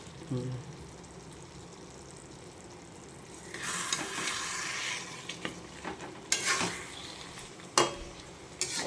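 A fish head sizzles and fries in a pan while being stirred, with a brighter burst of hiss partway through and a few sharp scrapes and knocks of a utensil against the pan.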